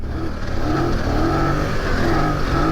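BMW F900 GS adventure motorcycle engine revving as the throttle is wound on, a loud, close, continuous rising engine roar with wind noise, no voices.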